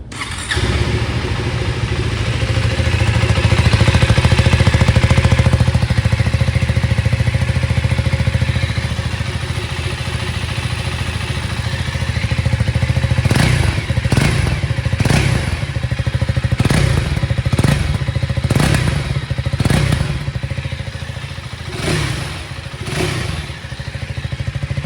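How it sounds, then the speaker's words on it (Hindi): A 2026 KTM 390 Adventure X motorcycle's engine runs with a loud, close, steady idle rumble, briefly swelling early on, then several sharp revs and blips in quick succession near the end, with no talk. "अभी आपको इस बाइक का साउंड आपको सुना देता हूँ।"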